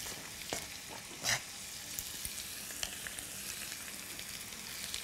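Liver frying in a pan, a steady close sizzle and crackle running throughout with a few sharper pops and spatters, no voices.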